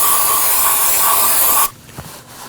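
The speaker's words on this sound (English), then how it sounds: "one last pass with some brake cleaner and a clean rag" Brake cleaner sprays in a loud, close, steady hiss for under two seconds during work on a Chevrolet Equinox rear axle. It then cuts off, leaving faint rag-wiping and handling noises.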